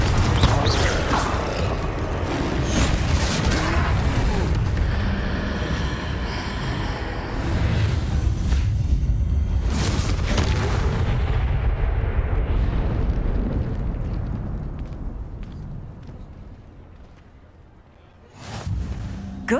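Confringo fire spell bursting during a troll fight in the Hogwarts Legacy video game, a sustained loud explosive roar and rumble that swells, lingers and then fades into quiet before a final sharp burst.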